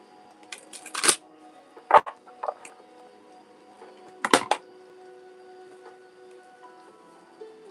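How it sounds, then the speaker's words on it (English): Tarot cards being shuffled during a live reading, several short papery riffles and taps scattered across the span with quiet gaps, close and fairly soft over a faint steady hum. "so we'll just keep shuffling."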